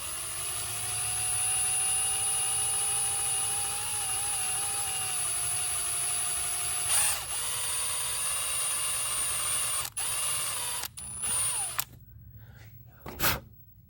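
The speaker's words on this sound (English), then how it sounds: "It's basically honing it out just lightly, just enough to clean it." A drill spins a Scotch pad, lightly honing out a fuel injection part from a scrapped Buick Grand National, giving a steady high-pitched whine that holds for several seconds and then breaks into short stops and restarts.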